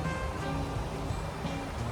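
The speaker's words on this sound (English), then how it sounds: "listening to the sound of the water" Broadband rush of river water flowing steadily beside a downtown Toronto riverbank, continuous and fairly close, with no talk over it.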